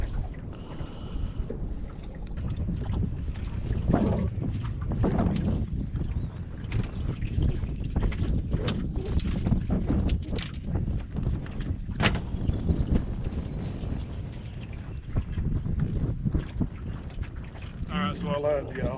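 Wind buffeting a fishing boat out on the water during a catfish trip, a steady, loud rushing roar with microphone rumble that barely lets up for the whole stretch.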